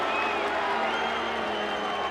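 Stadium crowd at a rugby league match voicing displeasure at the referee after a penalty, a steady, dense roar of many voices with no clear breaks, loud and continuous throughout.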